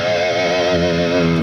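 Distorted electric guitar pinch harmonic, a single sustained squealing overtone with strong wavering vibrato. It rings loud and close for over a second, then cuts off.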